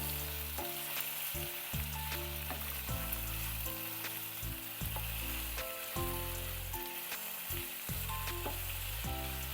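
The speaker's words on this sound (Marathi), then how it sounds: "आता त्याचबरोबरीने ॲड करूया बटाटा पण परतून घेऊया आपण व्यवस्थित मिक्स करूया" Potato pieces sizzle and fry in a hot pan for a potato sabzi, a continuous crackling hiss with occasional stirring scrapes, close and alone without talk.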